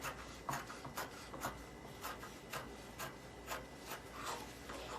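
Scissors snip through fabric for a child's trouser in a quiet, repeated rhythm of short crisp cuts, close by over a soft background.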